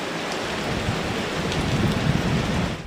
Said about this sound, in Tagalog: Vicky, magdamag binayo ng malakas na hangin at tuloy-tuloy na pag-ulan ng buong Santa Ana, Cagayan